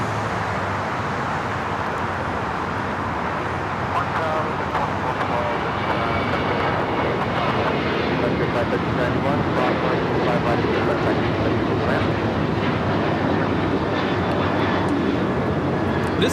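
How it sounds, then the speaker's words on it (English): An American Airlines Boeing 737-800 takes off from LAX bound for Phoenix, its engines giving a loud, steady broadband roar that holds and swells slightly throughout, with a voice talking over it. "1994 taking off to Phoenix on the 737-800."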